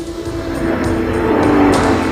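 An Elf prototype race car drives its first laps on an airfield, its engine a loud, close, steady drone that swells slightly as it runs, with no talking.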